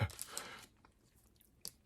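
Someone bites into and chews a crunchy peanut butter protein bar up close: a crisp crunch at the start, then quieter chewing and another brief crunch near the end.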